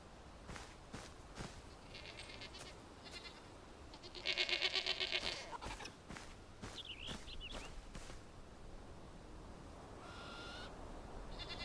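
Goat in the game Enshrouded giving a nasal bleat at mid-clip, moderately close, with soft footsteps and clicks around it and a few shorter, quieter calls later.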